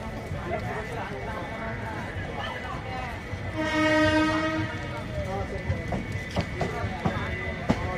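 A passenger train hauled by a WAP7 electric locomotive rumbles along with rhythmic wheel clatter, a horn sounding briefly midway, and voices in the background throughout.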